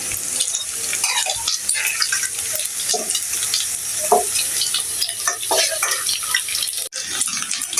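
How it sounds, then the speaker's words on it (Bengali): Chicken pieces fry in hot oil until browned for a chicken curry, crackling and sizzling loudly and close with frequent scraping and stirring noises. "আমার চিকেনটা এরকম করে লাল করে ভেজে নেব এভাবে আমি সবটি চিকেন ভেজে নেব"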